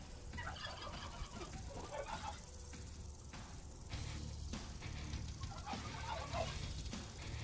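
Brooding hens in the Vintage Story video game give soft, scattered clucks and low gobbling murmurs over a constant background hiss, fairly faint throughout.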